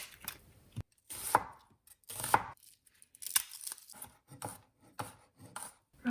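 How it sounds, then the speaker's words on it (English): Garlic being roughly chopped with a knife on a cutting board, a series of sharp, close knocks and slicing taps in an uneven rhythm with brief pauses between strokes. "Roughly chop the garlic."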